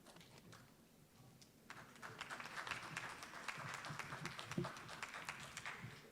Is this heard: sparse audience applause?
yes